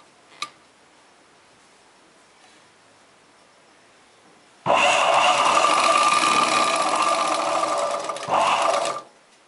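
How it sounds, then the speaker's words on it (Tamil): A sewing machine stitches the back seam and yoke joint of a chudidar pant. It runs steadily and close for about five seconds with a brief dip near the end, after a quiet stretch with one small click. "வச்சுட்டு தையல் போட ஆரம்பிச்சுருங்க."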